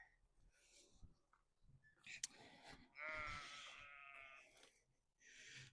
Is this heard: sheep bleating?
yes